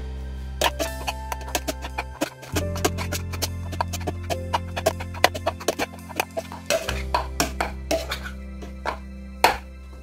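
Potatoes are mashed with butter for a cottage pie, a run of quick, regular soft knocks and thuds of a masher in a pot over a steady low hum, close by and without talk.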